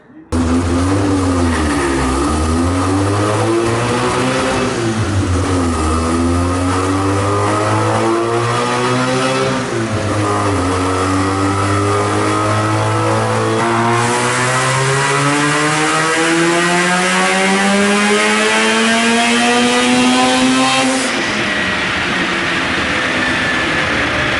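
A GSL-SE car engine with nitrous revs hard on a dyno, steadily climbing in pitch through repeated long pulls, loud and close, with the roar cutting off near the end.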